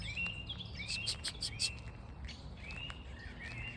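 Birds sing in a park: a quick run of bright chirps and rising whistles, a few close together at first and then spaced out, fairly soft over a quiet outdoor background.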